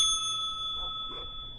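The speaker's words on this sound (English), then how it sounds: "by smacking that notification bell" A notification bell chimes with a bright sustained ring, fairly faint and alone, decaying slowly.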